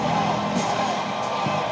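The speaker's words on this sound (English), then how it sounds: "Listen to this ovation for Riddle tonight." A London wrestling crowd gives Matt Riddle a loud sustained ovation, steady roaring and cheering with whoops rising through it and commentary on top.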